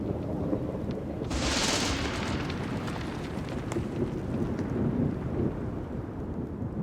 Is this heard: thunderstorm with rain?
yes